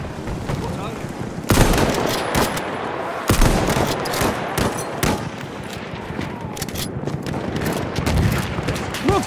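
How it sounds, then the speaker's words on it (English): Machine gun fire in the World War I shooter Battlefield One, loud rapid bursts with sharp cracks over a constant battle din, up close and relentless. "Machine gun, one of theirs."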